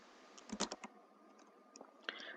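Computer keyboard typing code: a short burst of crisp, close key clicks in an uneven rhythm, a quiet pause, then a few more taps at the end.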